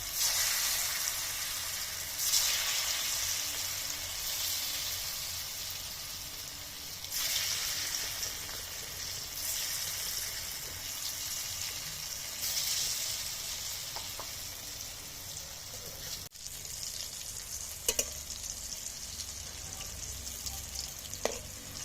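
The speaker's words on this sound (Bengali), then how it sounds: "কেটে রাখা ধোকাগুলো এবারে একটা একটা করে ভেজে নেবো" Continuous hiss of lentil cakes frying one by one in hot oil in a wok, with bursts of louder crackling and a few faint clicks, no voices.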